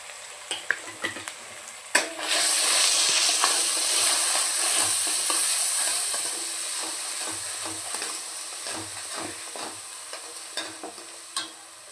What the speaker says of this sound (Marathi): छानपैकी असं खमंग असं हे आपल्याला यामध्ये परतून घ्यायचं आहे